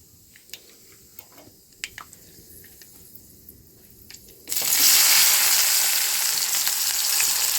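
Quiet kitchen clatter with a few clicks, then a sudden loud sizzle as chopped onions hit hot oil with cumin and turmeric, steady crackling frying continuing to the end.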